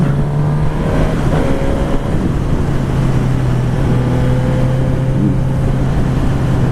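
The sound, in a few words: Suzuki GSX-S1000 motorcycle engine running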